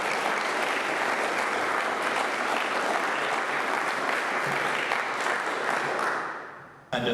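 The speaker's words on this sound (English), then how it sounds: "I think we have a round of applause for junior speakers" Sustained, dense applause from an audience at a junior debating event, steady and loud for about six seconds before tapering off quickly at the end.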